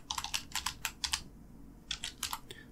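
Typing on a computer keyboard: several quick bursts of clacking keystrokes, a pause, then another short run of keys, close and clear in a quiet room.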